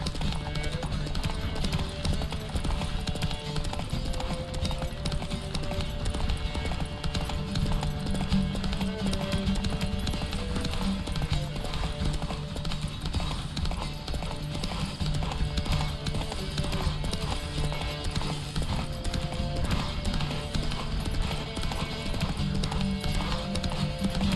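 Rapid, continuous hoofbeats of a galloping horse in the video game Witcher 3 drum steadily for the whole stretch, layered over a busy background of game music and effects.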